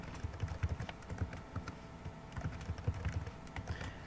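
Fingers type a password on a computer keyboard, a close, quiet run of soft key clicks in uneven bursts with a short pause in the middle, no speech over it.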